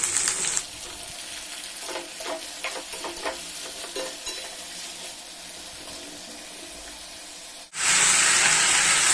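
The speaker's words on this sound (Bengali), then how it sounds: "আলুটাকে ফোড়নের সঙ্গে ভালো করে ভেজে নেব।" Potato and kundri pieces fry in spiced tempered oil, giving a close sizzle with stirring scrapes, then the sizzle suddenly turns to a louder hiss near the end; no voices.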